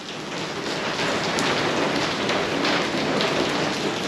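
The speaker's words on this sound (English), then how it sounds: "Storm a few days ago, and looks like there's another storm coming in now." Heavy storm rain pours steadily on a small-scale pig farm, a loud, dense, continuous hiss with no voices.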